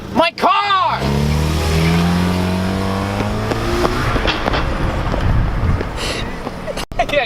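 A car accelerates away with a loud, rising engine note and a brief tire squeal at the start, the roar staying strong and steady; people shout and talk over it.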